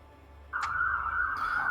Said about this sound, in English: Are those your sirens?